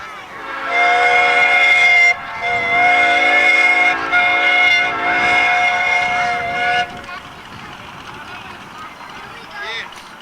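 A whistle on a live steam model train at a 1994 North Georgia Live Steamers meet blows loud and steady for about seven seconds, then cuts off, leaving fainter background noise.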